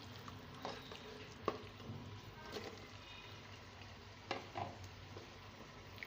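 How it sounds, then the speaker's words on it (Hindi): Minced meat keema frying in a pot while a spoon stirs it, a soft continuous sizzle with occasional scraping knocks and clinks against the pan, fairly quiet and close. "चमचा चलाते हुए हमने इसको अच्छी तरीके से भूनना है।"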